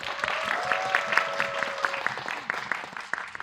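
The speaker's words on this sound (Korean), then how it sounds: "큰 박수 한번 부탁드리겠습니다" Cinema audience clapping at a special film screening at CGV Yongsan, crisp rhythmic claps from a crowd with a faint tonal whistle-like hum running underneath for a couple of seconds.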